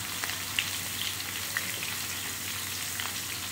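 Pieces of cut raw mango frying in hot oil with cumin for a mango pickle, a steady soft sizzle with faint crackles throughout and no one speaking.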